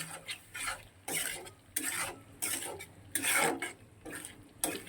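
Spices such as cumin and ginger paste are sautéed in a pan, with a spoon scraping in repeated rhythmic strokes, about seven distinct swipes, fairly quiet and close.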